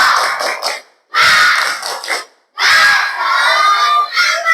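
Fifth-grade primary school class in a classroom shouting a spirited clapping chant together, loud bursts of many children's voices in three rhythmic phrases with brief gaps between them.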